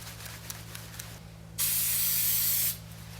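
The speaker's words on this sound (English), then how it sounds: "we use this spray. It's a spray adhesive, just contact cement" Contact cement spray adhesive hisses from an aerosol can during an Aerola SR radio restoration, in one close burst of about a second, heard alone.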